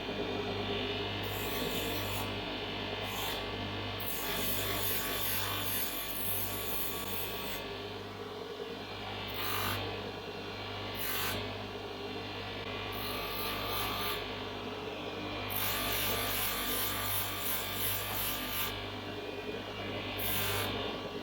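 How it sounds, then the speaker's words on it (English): Polishing wheel working corrosion off the engraved steel face of a 90-year-old chrome wheel spinner, a steady close buzzing whir with mains hum beneath and intermittent bright hissing bursts as the piece is pressed to the buff. "this first polishing operation, we've got to remove all the corrosion marks"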